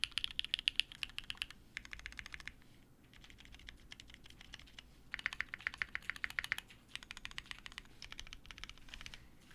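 Custom mechanical keyboard, a Unikorn fitted with a PBT keycap set, typed on in steady bursts of crisp, clacky keystrokes with brief pauses between runs, close and moderately quiet, no talking.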